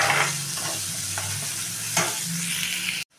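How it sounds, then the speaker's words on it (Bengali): Chopped onion frying in oil in a pan for a taro, potato and prawn curry: a steady close sizzle with stirring scrapes throughout, cutting off abruptly at the end. "পেঁয়াজটা একটু লাল লাল করে ভাজবো"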